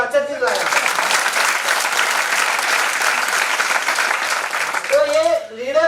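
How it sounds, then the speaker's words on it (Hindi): An audience claps at a direct-selling business meeting, a loud sustained burst of applause between stretches of someone speaking at the start and end. "मैनेजमेंट के लिए ताली बजा, अच्छा चीज लाया।"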